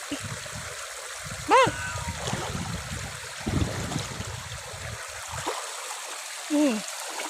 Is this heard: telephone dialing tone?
no